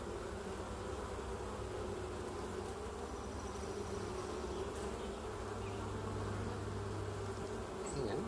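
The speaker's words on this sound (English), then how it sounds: "God, there's so many bees." A dense swarm of honey bees drones steadily and loudly up close throughout an open hive inspection, a continuous buzzing hum with no talk over it.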